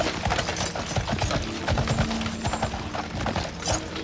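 Horses' hooves clip-clop in a quick, uneven rhythm, with scattered clatter and some low mechanical rattling in the mix and no speech.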